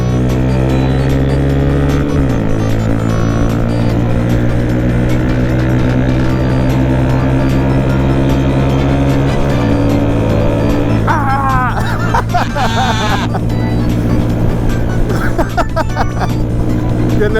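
Harley-Davidson and Honda Grom motorcycles race, their engines droning loud and steady throughout with pitch shifts as they rev and change gear, a brief higher whine near the end.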